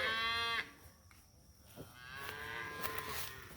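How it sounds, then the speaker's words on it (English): Baby calves and bulls bawling loudly during a morning cattle drive, with a long drawn-out moo up front followed by further cattle calls of varying pitch in the background. "all the bulls are in here now, and baby calves. They're bawling like crazy this morning"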